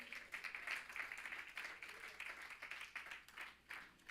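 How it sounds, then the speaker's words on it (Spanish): A church congregation applauds in uneven, fairly faint bursts of clapping that continue steadily for a few seconds. "Ese aplauso para Dios."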